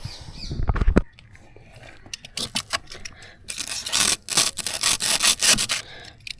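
Foam filling in a fishing boat is cut and levelled by hand, heard as a run of short, close, rasping scrapes and rubbing strokes in irregular bursts with brief quiet gaps.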